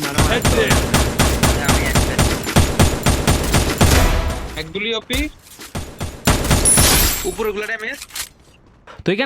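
Rapid overlapping gunfire from several weapons in a tournament match of a multiplayer shooter, dense bursts for about four seconds, then scattered shots and louder volleys, with voices talking over the firing throughout.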